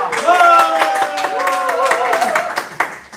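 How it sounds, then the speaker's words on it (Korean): An audience claps to welcome a speaker at a live-broadcast event, with brisk, fairly close clapping running under a voice for about three seconds before tapering off. "큰 박수로 환영해 주십시오."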